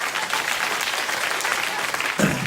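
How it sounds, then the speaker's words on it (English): Late-night talk show studio audience bursting into steady, dense applause, close and loud throughout the short stretch. "you quite spontaneously gave me a phony round of applause"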